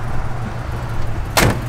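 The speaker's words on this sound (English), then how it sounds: "Doors open and close nice." Door of a 1964 Chevrolet Impala SS being worked, a sharp solid slam near the end over a steady low background rumble.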